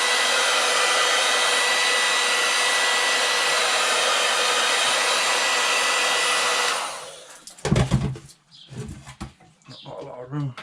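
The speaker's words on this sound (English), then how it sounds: "A quick blast of heat." Heat gun blasting hot air onto a car rear light lens, a steady loud broadband blowing roar lasting about seven seconds before cutting off, followed by brief handling knocks and low speech.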